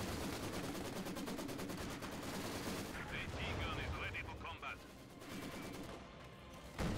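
Rapid automatic gunfire from a video game, loud and sustained, with bursts of shots repeating steadily across the whole stretch over dense, busy game noise.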